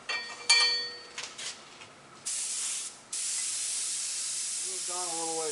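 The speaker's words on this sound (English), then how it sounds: "I'm going to also spray a little bit of blue on the top part of that." Short clinks and rattles, then a steady close hiss of blue aerosol spray paint laid onto a semi truck mural, pausing once and resuming.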